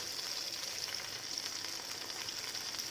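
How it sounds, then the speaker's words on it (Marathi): Masala-stuffed okra frying in a pan over medium heat, a quiet, even sizzling hiss that runs steadily throughout without distinct turning sounds. "आता तिला जर अशी परतूया म्हणजे दुसऱ्या बाजूने भाजून घ्यायचं"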